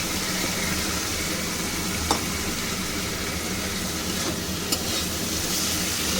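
Potatoes dropped into hot spiced oil in a pan, giving a steady, dense sizzle throughout with a few faint clinks of a spoon stirring, close and even, no talking.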